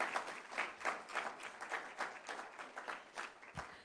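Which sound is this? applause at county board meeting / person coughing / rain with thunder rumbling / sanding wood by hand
applause at county board meeting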